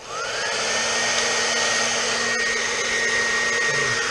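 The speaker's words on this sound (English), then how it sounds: "They say to use a hair dryer and to heat it up." A hair dryer runs close by at a steady whine with a constant airflow hiss, held on a phone to heat it during a repair, with no talking.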